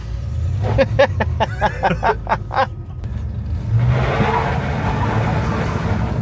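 A bagged Chevrolet C10 truck engine revs while driving, a steady broadband motor roar building after a stretch of voices near the start.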